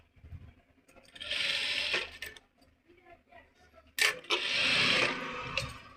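A sewing machine stitching a fabric sleeve lining: two bursts of fast, whirring mechanical stitching, each lasting about a second or two, separated by quieter handling noises, close by.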